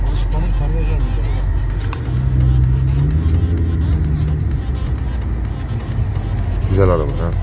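An Audi RS3 with a 400-horsepower engine drives along, its engine hum steady underneath with pitch shifts as it pulls through a corner, while people talk over it.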